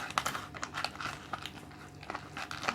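A convenience-store kimchi fried rice packet squeezed and crinkled by hand, giving a close run of dry plastic crackles and crunches in irregular bursts, with no talking.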